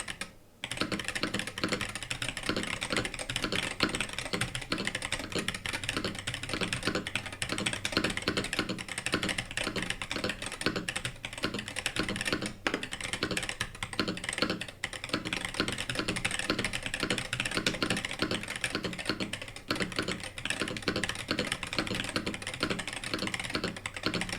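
Fast, continuous typing on an MCHOSE Ace 68 Pro keyboard with stock switches, heard close and alone. It is a dense stream of crisp clacks and taps, with occasional louder spacebar hits.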